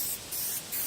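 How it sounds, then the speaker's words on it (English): A spray can sprays paint outdoors in the wind, giving two short hissing bursts close by, each about a quarter second long, with no talking. "So I'm going to spray them"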